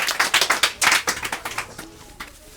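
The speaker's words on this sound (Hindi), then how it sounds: "एक बार जोरदार ताली से स्वागत किया जाए।" An audience on a Hindi quiz-show stage claps in welcome: a quick burst of sharp, close hand claps that thins into scattered, fading claps by the end.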